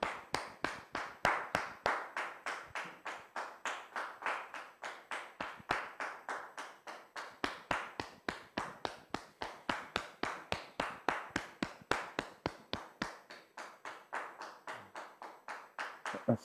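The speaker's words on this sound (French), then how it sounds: "Je vous demande de la recevoir sous vos applaudissements," An audience welcomes a guest with rhythmic, unison clapping: sharp, regular claps at a brisk steady beat that continue for the whole stretch, moderately close, with no voices over them.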